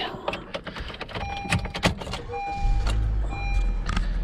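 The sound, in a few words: 2020 Honda Fit car engine starting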